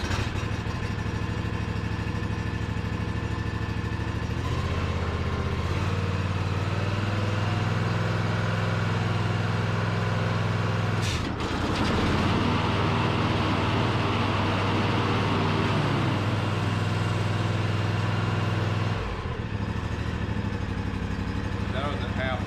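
An Ariens IKON XD zero-turn mower engine runs steadily at half throttle, a loud, constant close-up drone with a brief dip partway through and slight shifts in tone.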